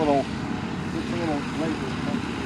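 A radio-controlled model airplane drones steadily at a distance with a faint, wavering engine tone as someone talks over it throughout.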